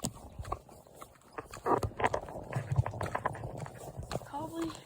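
Horse hooves clip-clopping at a walk during a ride, several close irregular hoof falls mixed with rider voices and tack noise, with people talking throughout.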